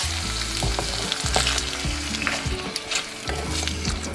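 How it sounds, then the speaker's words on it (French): Semi-thick cream hits a hot frying pan and sizzles loudly, with scraping stirs and soft thumps of a utensil against the pan coming through close and continuous; no voices. "je viens tout simplement mettre le tout dans ma poêle"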